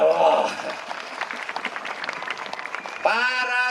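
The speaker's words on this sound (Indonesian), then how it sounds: "Ya tepuk tangan." An audience applauds during a poetry reading marking the NU centenary, clapping dense at first and then thinning into scattered claps, before a voice speaks again at the end.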